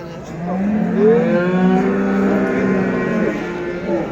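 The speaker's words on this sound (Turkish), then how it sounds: "Burada da yine güzel bir inek var arkadaşlar." A cow moos loudly and close up at a livestock market in Göksun, Kahramanmaraş, a long drawn-out call with steady harmonics over a busy crowd background.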